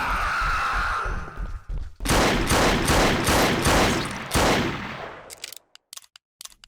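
Rapid bursts of gunfire in a horror first-person shooter video game, a loud sustained volley of evenly spaced shots after a brief lead-in, ending in a few scattered echoing thuds.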